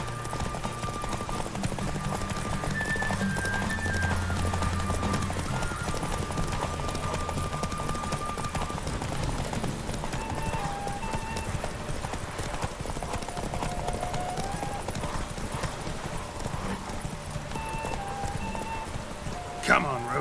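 A horse gallops steadily in The Witcher 3: Wild Hunt, with a continuous rapid clip-clop of hooves over a game soundscape and a faint whinny, while a voice speaks over it.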